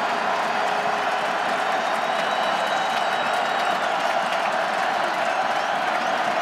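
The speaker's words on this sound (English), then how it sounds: "Crowd comes to its feet." Stadium crowd at a college football game between NC State and Clemson, a broad continuous roar of cheering at a steady loud level with no break.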